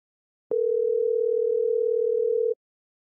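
A phone call to a friend sends out one steady, loud electronic tone that holds for about two seconds before cutting off, with nothing else around it.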